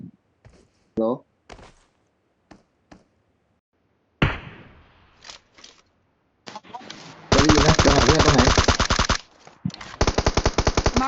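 Gunfire in the mobile battle royale game PUBG Mobile: scattered single shots and short bursts early on, then loud sustained automatic fire in two long bursts, with a player talking over it.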